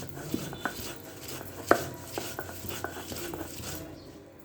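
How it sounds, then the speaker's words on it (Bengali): Radish greens, raw onion and salt being ground into a bharta, a quiet rhythmic series of pounding and scraping knocks at close range, one sharper clack in the middle, with no talking. "দিয়ে আমি এখন এগুলা পিষে নেব।"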